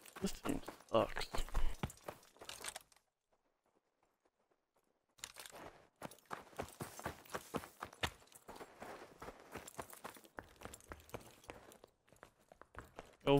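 Footsteps in Call of Duty Vanguard thud and crunch in a fast, steady run, close and clear, stopping for a couple of seconds of near silence before starting up again.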